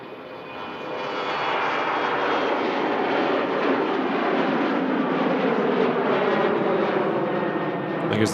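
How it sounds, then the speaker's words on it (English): A Finnair Embraer E190 jet departing Manchester Airport, its engine roar swelling up after the first second and then holding as a loud, steady broadband rumble heard from a distance. "Here's the Finnair, Embraer E190 heading back to Helsinki."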